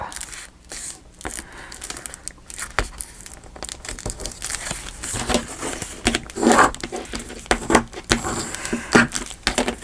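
Paper ephemera for a recipe journal is folded back up by hand, with close crinkling, rustling and soft creases that come in irregular bursts, busier toward the end, with no talking.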